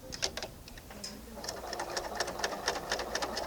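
BERNINA L890 serger sewing a wide cover stitch, running steadily at close range with a fast, rhythmic ticking pulse.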